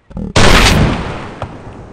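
Gunshots in a multiplayer shooter video game: a short pop, then a loud booming shot with a long fading tail and a fainter crack about a second later.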